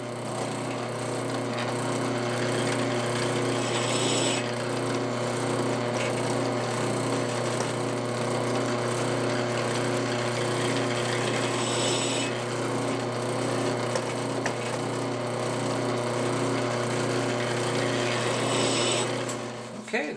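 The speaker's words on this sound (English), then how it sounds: "I'm just going to manually, with the drill press here, touch these a little bit to chamfer them" A drill press hums steadily and loudly throughout as it chamfers holes, its motor drone constant with faint grinding touches.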